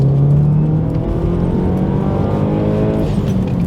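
A Subaru Legacy 2.0T turbo wagon accelerates hard under boost, engine note rising steadily in pitch as revs climb, loud and close from inside the car.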